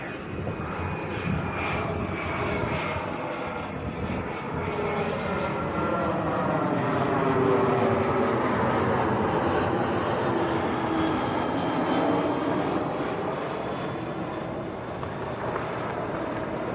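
A Cessna Citation 680 business jet roars at Leeds Bradford Airport, a loud, sustained engine rumble and whine that swells toward the middle with a slowly shifting pitch, heard alone without talk.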